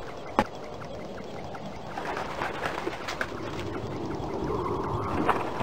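Birds in the Orion Burger adventure game, soft cooing calls over a steady background hum, with a sharp click near the start and louder calls building toward the end.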